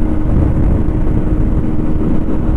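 QJ Motor SRV125 motorcycle with a 125 cc engine held at about 9500 rpm, giving a steady, loud, droning roar with wind rush that runs unbroken and alone.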